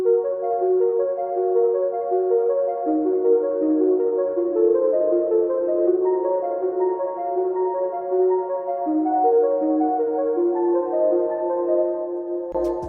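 A synth pluck preset plays chords broken into a flowing arpeggio for a drill beat, a steady run of bright, evenly spaced notes rising and falling alone without drums, ending with a short burst.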